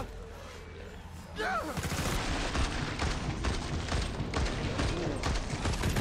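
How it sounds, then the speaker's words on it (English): Alt fire from an M16 assault rifle in a shooting video game: a rapid, loud clatter of gunfire starting after a short swooping effect and continuing densely to the end under a busy game mix. "what you just saw there was me trying to do an alt fire with my M16 assault rifle"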